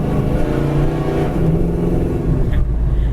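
A 1971 Dodge Dart with a small block V8 rumbles steadily and close up, a deep continuous engine drone with slight revving surges and no talking.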